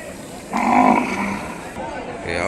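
A cow at a bull and cattle market in Kodad, Telangana, gives a loud, close moo lasting about a second, with a fainter lowing after it, while people talk quietly in the background.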